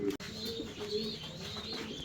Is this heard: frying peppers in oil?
no